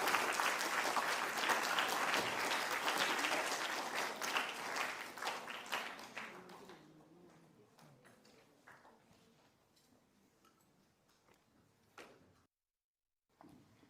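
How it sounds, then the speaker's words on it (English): An audience at a declamation grand finale applauds in a hall, loud and dense clapping for several seconds that dwindles into sparse scattered claps and a few thuds before falling silent. "Once again, a huge round of applause."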